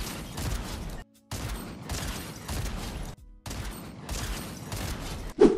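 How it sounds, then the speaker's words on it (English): Shotgun blasts fired through walls in Fortnite, heard as three long, dense bursts of loud gunfire and game noise separated by short silent gaps, with no talking. "The new shotgun is actually broken. You can just fully shoot through walls like this."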